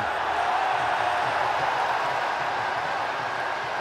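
Stadium crowd at Gaddafi Stadium during a Lahore Qalandars versus Karachi Kings PSL cricket match, a dense continuous roar of cheering filling the air at a steady, even level.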